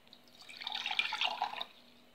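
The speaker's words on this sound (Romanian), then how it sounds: "Acum, într-un vas o să punem apa." Water is poured into a bowl while preparing a flaxseed hair treatment, a soft, faint splashing pour lasting about a second in a quiet room.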